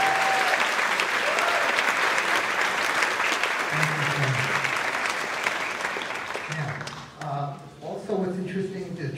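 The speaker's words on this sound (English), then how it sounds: "Give a little round of applause." An audience at a high school spring concert gives warm, sustained applause that carries on for several seconds. Voices are heard under it, and then speech takes over as the clapping dies down.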